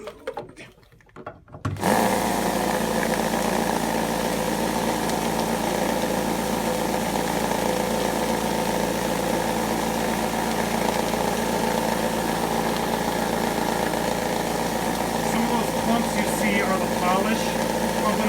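A vibrating bowl tumbler polishing RC parts in media with Flitz polish starts up with a switch-on clunk, then settles into a steady, loud buzzing hum with a faint rattling grind of granules that runs unchanged.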